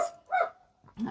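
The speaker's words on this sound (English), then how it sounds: "Oh, sorry about the dog." A single dog lets out a short, close bark followed by a quick second yelp indoors, clear and fairly loud against a quiet background.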